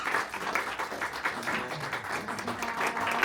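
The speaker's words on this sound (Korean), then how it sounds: "큰 박수 부탁드립니다." An audience applauds at a private business networking evening, a continuous, even wash of clapping from a room full of people that stays steady for the whole stretch.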